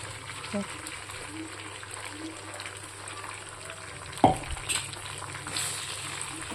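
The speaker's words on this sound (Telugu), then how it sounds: "ఈ పేస్ట్ ఇందులో వేయాలి." Tamarind chili paste frying in oil in a pan for a pickle, a steady low sizzle running throughout with a brief louder stir or splash near the end.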